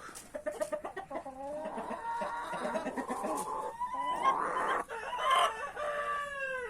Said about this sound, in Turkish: Tam bir koca tavuk oldu.